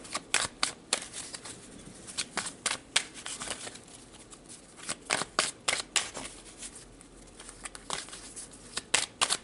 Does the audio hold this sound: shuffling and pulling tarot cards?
yes